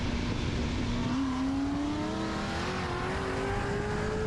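A street race car launches with a loud, rising engine roar as its tires spin, the pitch climbing steadily over a few seconds amid constant noise.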